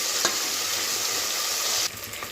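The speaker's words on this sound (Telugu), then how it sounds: "టమాటా ముక్కలు, కొత్తిమీర అన్నీ కలిసికట్టు తిప్పుకుందాం. కొద్దిసేపు వేగనేయాలి." Tomato pieces and coriander stirred and frying together in a pan, a steady close sizzle that runs for a couple of seconds before dropping sharply quieter near the end.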